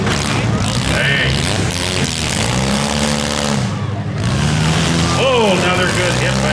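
Mini demolition derby cars in Beeton, Ontario revving hard and slamming together, loud engine roars with rising pitch sweeps and a dull impact, while a commentator talks over the noise.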